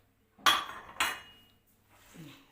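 A utensil works through spiced Egyptian hawawshi meat filling in a bowl, giving two sharp, close clinks against the bowl, followed by a faint, soft rustle of mixing.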